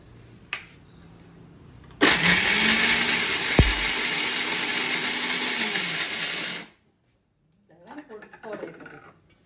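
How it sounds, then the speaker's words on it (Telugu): Mixer grinder pulverizing dried mango seed kernels into powder, a loud, steady whirring burst of about five seconds that cuts off abruptly, framed by a click beforehand and a voice talking afterward. "మిక్సీ ఎట్లా పెట్టి ఒక 2-3 తిప్పులు తిప్పితే అయిపోతుంది"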